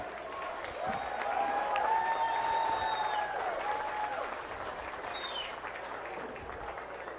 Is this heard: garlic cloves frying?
no